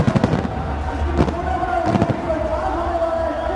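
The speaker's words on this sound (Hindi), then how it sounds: "इन आतिशबाजियों के बीच, इन पटाखों के बीच" Fireworks and firecrackers go off in sharp bursts, with loud cracks spaced a second or so apart, at a celebration during a Ranchi Rhinos versus UP Wizards hockey match, while a commentator speaks over the steady crowd noise.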